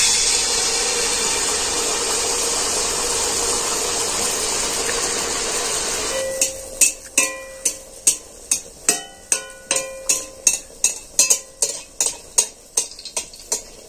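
Dough drops into deep, hot refined oil, first a broad steady hiss, then a run of sharp crackling pops and spits repeating every half second or so, loud and close.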